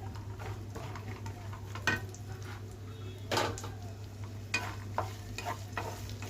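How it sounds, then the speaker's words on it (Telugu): Raisins fry in ghee for rava laddu, a soft, continuous crackling sizzle with scattered clicks and scrapes from a stirring spoon. "ఇదన్నీ దూరంగా వేపుకోవాలి వేగుతుంది కదా ఈ మాత్రం వేగితే సరిపోతుంది"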